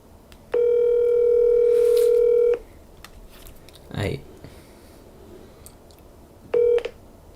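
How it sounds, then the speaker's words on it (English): Touch-tone phone dialing with DTMF keypad beeps and a steady dial tone while calling a friend: a long two-second tone, a soft knock midway, then one short beep near the end. "we're actually going to be calling a friend now"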